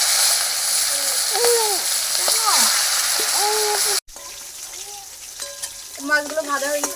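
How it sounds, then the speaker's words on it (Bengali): Catla fish pieces sizzling in hot oil in a home kitchen, a steady frying hiss with clattering stirs, and a voice chirping over it midway before a short cut and quieter crackling. "মাছগুলো ভাজা হয়ে গেছে, তুলে নেবো"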